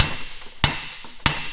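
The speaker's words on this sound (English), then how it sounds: "So I just wanna tap it. I'm starting to break the weld." Two sharp hammer taps land about half a second apart on a custom drive shaft for a Bronco, striking metal to break a weld, each a bright ringing crack close by with quiet between.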